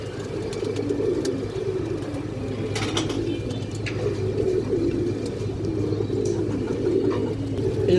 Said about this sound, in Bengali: এই যে দেখেন পুরো লাল গিয়ারের কবুতরটা